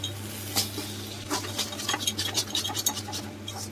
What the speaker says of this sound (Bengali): এবার ডিমটাকে দিয়ে আমরা বাঁধাকপিটাকে ভালো করে নাড়িয়ে এটা ভাজা ভাজা করে নেব